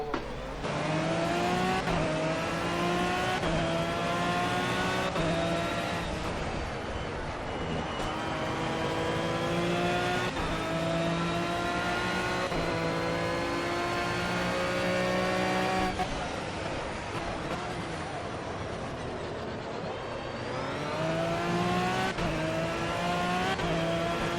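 GT3 race car engines at Hockenheim in Project CARS, a sustained loud engine roar from the player's car with repeated rising revs and gear shifts through the whole sprint race stretch.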